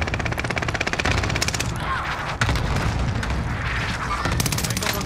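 Cooper carbine fire in Warzone Pacific rattles out in fast, loud automatic bursts, with a brief break midway before another sustained string of rapid shots and sharp booms.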